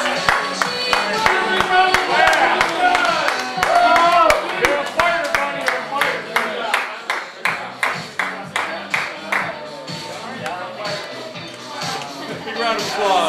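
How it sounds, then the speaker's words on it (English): Applause breaks out as a 15-minute wing eating contest at Chandy's Lounge ends, dense clapping at first thinning into a slower, sparser patter of individual claps toward the end. "Big round of applause."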